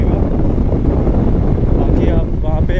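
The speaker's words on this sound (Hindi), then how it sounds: "हवा चल रही है ठंडी ठंडी" Cold wind gusts beside a river in Ladakh, a loud, constant rumbling buffet across the microphone, with faint speech showing up near the end.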